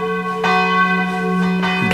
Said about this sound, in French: Et de ma tour, les cloches vous appellent.